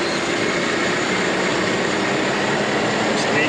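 A small RC farm tractor running its PTO and hydraulics gives off a steady, close, broadband whirring hum that stays constant for the whole stretch with no breaks.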